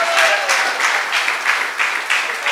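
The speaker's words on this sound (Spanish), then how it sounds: "Den un poderoso aplauso a Dios," Congregation applauding in a church, a steady, dense wash of clapping from many hands that carries through the whole moment at even loudness.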